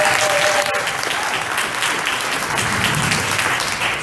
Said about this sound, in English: So give yourself an applause first for that.